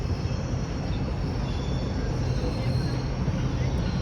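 A GO train's passenger coaches roll past in downtown Toronto, a loud steady rumble of wheels on rails with a constant broadband roar, heard close with a voice talking over it.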